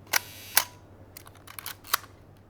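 Classic film camera shutter firing at slow speeds, one second then half a second, giving distinct sharp mechanical clicks in pairs with a brief cluster of small clacks, close up and quiet otherwise.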